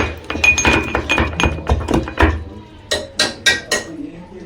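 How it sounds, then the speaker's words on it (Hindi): Garlic and green chillies being pounded in a kitchen, giving a series of hard clinking and thudding knocks, irregular at first and then spaced, loud and close, with someone speaking faintly beneath. "लगाने के लिए मैं ये कूट रही हूँ लहसुन मिर्च।"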